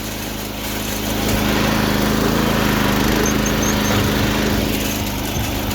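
A mini tractor engine drives along and shifts into third gear, a loud, steady, buzzy drone that rises in intensity after the first second and holds close throughout.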